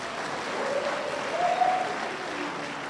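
Graduation ceremony audience applauding steadily for about three seconds, a dense wash of clapping that swells slightly midway before easing, moderately distant with no talk over it.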